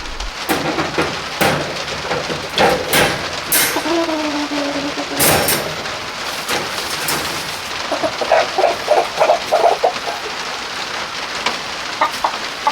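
Chickens cluck and call in short bursts inside a chicken coop over a steady patter of rain drumming on the roof, with occasional louder knocks nearby.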